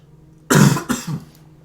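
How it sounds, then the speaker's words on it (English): A cough followed by a couple of shorter throat-clearing bursts, close and fairly loud after a moment of near silence, during a trading card game commentary. "I'm coughing a lot because I'm very angry."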